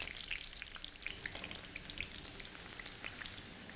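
Onions frying in hot oil for spicy paneer changezi, a steady close sizzle with scattered crackling pops throughout, no voices.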